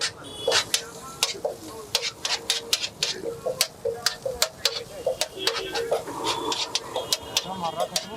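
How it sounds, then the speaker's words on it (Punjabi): Cumin seeds hit hot Verka desi ghee as a tempering for chickpeas, giving a sizzle broken by sharp repeated clatters and scrapes of a ladle against the pan, close and fairly loud. "ਲੋ ਜੀ ਹੁਣ ਲੱਗਣ ਜਾ ਰਿਹਾ ਤੜਕਾ ਉਹ ਵੀ ਦੇਸੀ ਘਿਓ ਦਾ"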